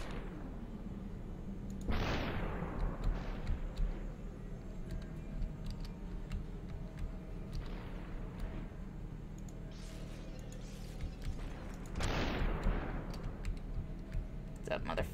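Gunfire in the slow-motion shooter Superhot, two sharp loud shots about ten seconds apart, each with a ringing tail, over a steady game soundscape with scattered clicks and a person talking.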